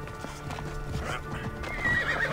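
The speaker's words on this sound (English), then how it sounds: "Um cavalo." A horse's hooves clip-clop steadily in Assassin's Creed Odyssey, and a whinny rises near the end over a continuous game soundscape.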